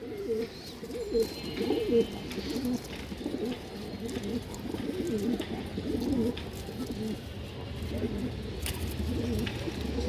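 Several pigeons coo steadily in low, throaty warbles, overlapping continuously at close range, with faint chirps from other birds behind.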